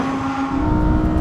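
An Audi R8, Lamborghini Huracan and Nissan GT-R launching in a drag race, a loud sustained engine roar with a steady droning tone that builds slightly, heard alone for a brief moment.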